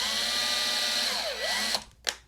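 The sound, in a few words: power drill drilling into wooden frame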